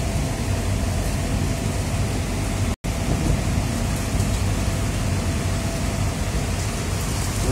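Steady rain hisses in bad weather as a dense, even wash of noise, with one very brief dropout partway through and no voices.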